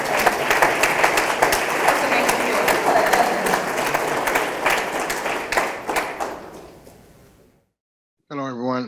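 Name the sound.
audience applause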